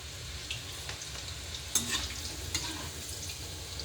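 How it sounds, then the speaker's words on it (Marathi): Cabbage bhaji fries in oil on a very low flame while being stirred, making a continuous soft sizzle with occasional louder clicks and scrapes near the pan. "तर गॅसला एकदम मंद आचेवर या तेलाला ढवळून घ्यायचं आहे"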